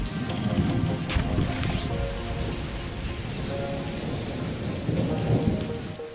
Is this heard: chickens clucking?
no